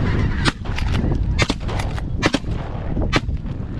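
Several sharp shotgun blasts ring out during a North Dakota duck and snow goose hunt in a snowstorm, loud and close, arriving singly and in quick pairs over steady wind noise, with goose calls faintly behind.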